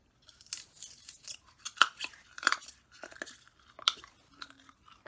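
Someone chews and crunches foam packing peanuts up close, with sharp irregular crunches and bites scattered across a few seconds against a quiet background.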